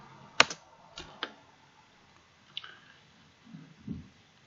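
A few scattered computer keyboard keystrokes, sharp isolated clicks with long pauses between them, faint and close, followed by a couple of soft duller taps.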